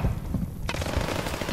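Machine gun fire in a multiplayer shooter hardpoint match with an MP-40, rapid continuous bursts of close, loud automatic shots with a brief sharp gap, no voices.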